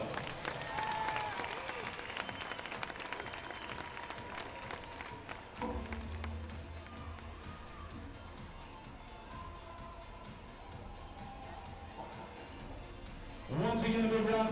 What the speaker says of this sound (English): Once again, a big round of applause for all of your football seniors.